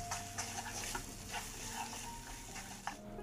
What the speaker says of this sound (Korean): 이 상태로 싹 섞으면 돼요.